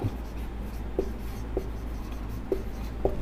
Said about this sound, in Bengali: এখানে লিখব চাপ